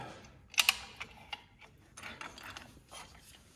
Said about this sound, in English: my new caliper compressor works pretty damn good